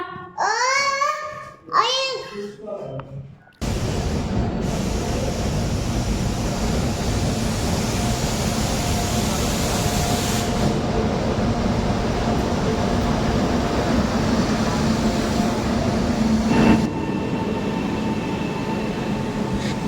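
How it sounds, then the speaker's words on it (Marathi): A child babbles briefly, then a loud, steady rumble of a train arriving at a station fills the rest, rolling in close with constant mechanical roar. "इथे आपली ट्रेन आलेली आहे आणि थोडासा लेट झालेला आहे ट्रेनला."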